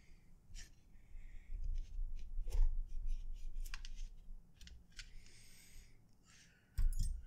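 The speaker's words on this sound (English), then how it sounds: "So I'm just going to cut this here." Scissors snipping through paracord close up, a series of small crisp cuts and handling rustles, quiet overall with a louder snip near the end.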